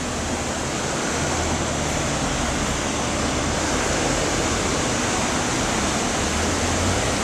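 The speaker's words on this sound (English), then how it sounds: "I'm looking down at a now very placid Tiber Creek, flowing beneath the buildings and undermining their foundation." Tiber Creek running placidly beneath buildings in Ellicott City, Maryland: a constant broadband rush of flowing water, steady and fairly loud, with no talking over it.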